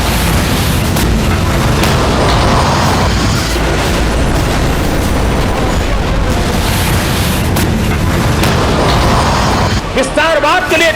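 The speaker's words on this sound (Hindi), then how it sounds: "उसकी तोपें गरज रही हैं।" Artillery cannons fire in a steady, dense roar of loud booms and rumbling blasts that fill the whole stretch without a break, while a voice narrates over them.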